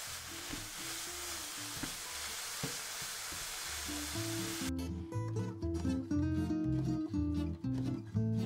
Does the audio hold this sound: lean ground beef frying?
yes